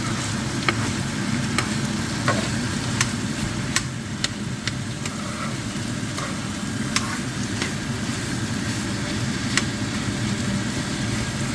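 Minced chicken fries in oil with a steady, close sizzle and crackle, and occasional spatula taps and scrapes sound over a low background rumble, with no talking.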